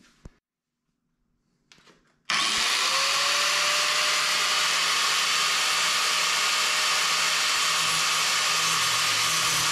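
Power tool cutting a sliver off a torque damper bracket: a loud, steady high-pitched whine with dense hiss starts abruptly after a few quiet seconds of faint handling noises and runs continuously to the end.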